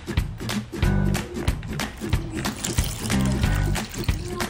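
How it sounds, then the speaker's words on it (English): Vinegar poured into a container, a splashing, trickling liquid sound in short uneven bursts, fairly quiet and close. "And let's pour new vinegar."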